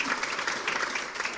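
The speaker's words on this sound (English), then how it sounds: "please, with a round of applause for their excellent debate" Brief burst of audience applause for panelists at a global technology summit, a dense patter of clapping heard on its own.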